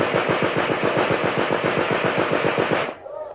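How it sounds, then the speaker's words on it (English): A machine gun fires as a radio drama sound effect, a fast, even burst of close, loud rapid shots lasting nearly three seconds before cutting off into a short reverberant tail. "Machine gun!"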